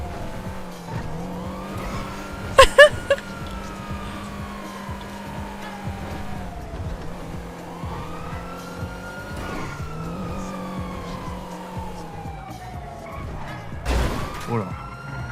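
A car in a GTA roleplay game drives with rising and falling engine revs and tire squeals, including sharp skids near the start and end.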